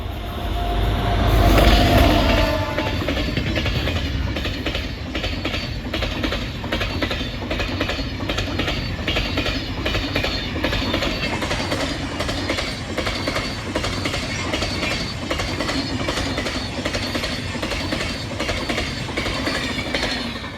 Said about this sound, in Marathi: तर ही या साईडून ट्रेन येते